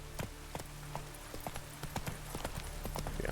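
Roach, the horse in The Witcher 3, walks along a road in the game with steady clip-clopping hooves, a regular rhythm of sharp distinct hoof strikes over faint background ambience.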